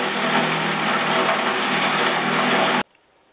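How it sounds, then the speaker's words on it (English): Bench buffer polishing the caps of Stanley No.65 low angle block planes after 3000 grit sanding, a steady loud broadband whirring and hissing that runs continuously for nearly three seconds, then cuts off abruptly into silence. "With the 3000 grit sanding done, the next step for these caps is the buffer."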